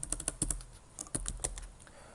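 Quick, irregular clicks of a computer keyboard as code is typed, close and fairly crisp, in short bursts with small pauses and no talking.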